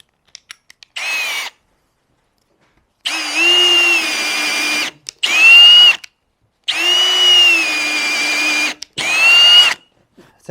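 A bench grinder whines in several sustained bursts as the edge of a drill bit is flattened during sharpening, with short silent gaps between each pass.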